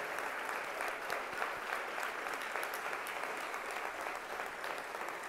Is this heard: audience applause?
yes